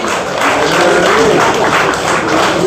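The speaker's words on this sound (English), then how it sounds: "Round of applause for our speaker," A room of attendees at an annual general meeting claps for a speaker, a loud, close burst of applause that stays steady throughout.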